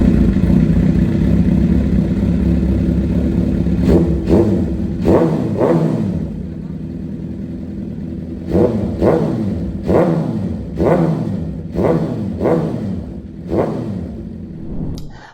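A Suzuki GSX-R 750 motorcycle engine idles loudly, then gets blipped with a series of sharp throttle revs, each rising and falling quickly, close by.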